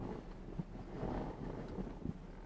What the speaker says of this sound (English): this wind is freezing